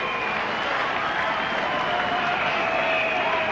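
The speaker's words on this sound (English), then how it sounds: "they are cheering on the terraces" A crowd cheers on the terraces at Leichhardt Oval after a rugby league match, Balmain against Penrith, a steady dense roar of voices throughout.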